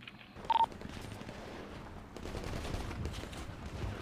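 Gunfire in a GTA 5 roleplay shootout. A short electronic beep comes first, then a dense spell of shots grows louder toward the end.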